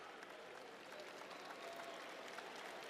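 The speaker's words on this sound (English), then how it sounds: "It's a nice round of applause as he heads over to the Winston-Salem State bench." A basketball arena crowd at a Winston-Salem State vs Virginia Union college game applauds as a player fouls out and leaves the court, a steady, distant wash of clapping with no clear talk.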